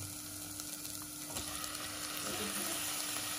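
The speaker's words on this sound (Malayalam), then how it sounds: "നന്നായി മസാലയായിട്ടൊന്ന് മിക്സ് ചെയ്തെടുക്കുക" Squid frying in masala gives a steady, close sizzle with occasional stirring scrapes, a continuous hiss at moderate volume with no talk.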